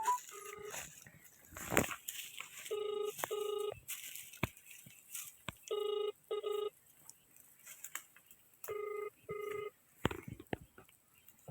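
A phone dials a number with several short bursts of keypad tones, followed by repeated paired electronic tones as the call fails to connect, with scattered clatter and brief noises around them.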